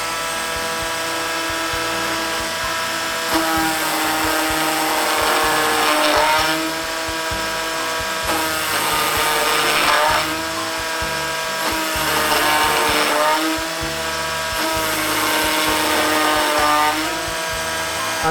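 A power drill bores a series of small holes around the edge of a workpiece, its loud whining motor swelling in repeated bursts roughly every few seconds over a constant running drone, close by and without talk.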